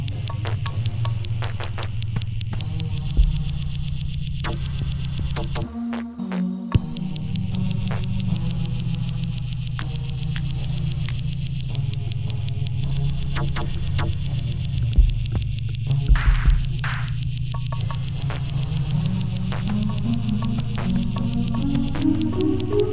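An ambient track plays with a throbbing, humming drone, high shimmering tones and occasional brief swells, steady and continuous throughout with no talking.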